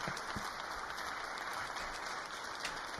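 Sustained audience clapping from a big crowd, a uniform wash of many hands at a constant level with no voices on top.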